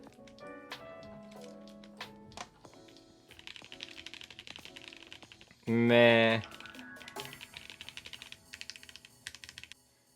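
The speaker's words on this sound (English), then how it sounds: "I like that ABS clack better" Keys clack on an ID80 mechanical keyboard fitted with ABS keycaps, a scattering of sharp individual presses and short bursts of typing, close and clear, with a loud tonal squeal partway through and brief speech.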